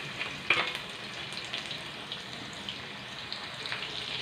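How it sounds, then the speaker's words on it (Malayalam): Chopped ginger fries in oil left over from frying fish, a soft continuous sizzle with faint crackles and a small clatter near the start, fairly quiet and steady, no talk. "മീൻ വറുത്തു കോരിയ ബാക്കി എണ്ണയിലേക്ക് നമുക്ക് ഇഞ്ചി അരിഞ്ഞു വെച്ചത് ഇട്ട് കൊടുക്കാം."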